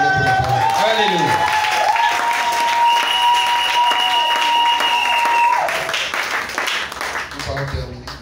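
A church congregation applauds and cheers loudly during a French-language sermon, a steady dense wash of clapping under sustained tones that fades toward the end.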